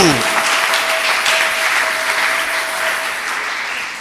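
A church congregation claps and cheers for Jesus during a service, giving sustained, dense applause that fills the room and fades slightly at the end, with a faint tone running beneath it.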